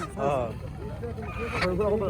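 Ducks honk and quack in a busy riverside morning market crowd, with people talking loudly nearby over the birds' calls.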